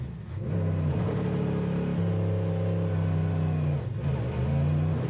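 A Ford Mustang GT3 race car pulls out of its pit box at Le Mans and accelerates hard, its engine droning loud and steady with rising pitch, a brief dip mid-way before revving on alone.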